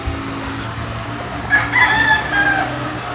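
A Boston broodstag rooster, crossed with a Golden Boy line, crows once, loud and near, over a faint steady background hum.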